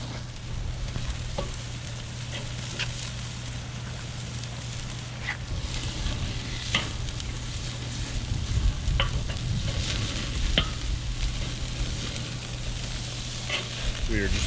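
Ribeye steaks searing on a camp grill outdoors, a steady close sizzle and crackle running throughout with scattered sharp pops and faint wind noise.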